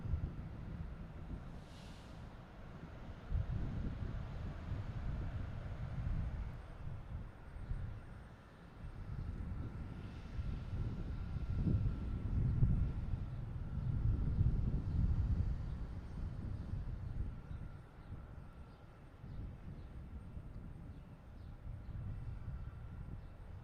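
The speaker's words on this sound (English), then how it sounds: "E-175 already on the roll here. Heading down 27, flight 4413." An Embraer E-175 jet rolls down runway 27 on takeoff at Boston Logan, a steady low rumble that swells gradually, heard from a distance with wind buffeting the microphone.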